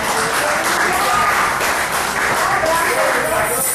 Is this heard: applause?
yes